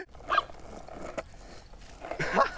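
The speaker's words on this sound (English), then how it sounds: "There he goes barking at people." A dog barks a few short times at a moderate distance, the yaps rising out of muffled background noise and faint chatter.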